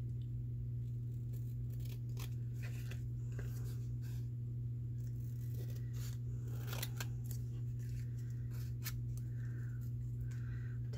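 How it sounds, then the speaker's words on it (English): Scissors trim around a paper craft tag in quiet, irregular snips over a steady low hum, close by, with no talking. "now we're just going to trim around our tag"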